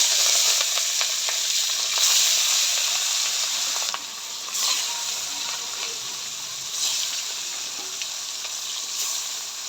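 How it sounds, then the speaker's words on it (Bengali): Fish fries in a pan with a loud, continuous crackling sizzle that pulses slightly as pieces shift, with no voices over it. "এবার মাছটা বাইজা নিব।"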